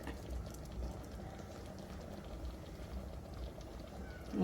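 Sweet payasam made with coconut milk and cardamom simmering in a pot, a soft, low bubbling burble that continues steadily and quietly, with a brief louder knock at the very end.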